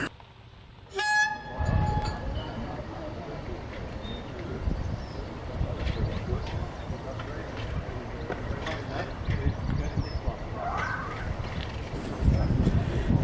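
A diesel train runs on a heritage railway near Rothley, its engine rumbling steadily and loudly for the whole stretch with a brief horn-like tone near the start and swelling again toward the end.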